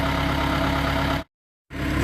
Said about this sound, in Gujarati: આજે જો જેસીબી થોડું ગરમ થઈ ગયું છે એટલે ભાવેશભાઈ જરાક એને ઠંડુ કરવા માટે જરાક મથી રહ્યા છે